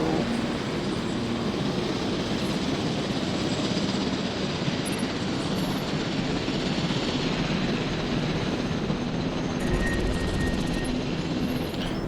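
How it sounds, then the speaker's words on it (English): A helicopter in a Jurassic park-building video game gives off a steady, loud, continuous rotor drone that holds unchanged for about twelve seconds, with no speech. "Helicopter's probably going to be occupied trying to tranquilize these three for 20 minutes"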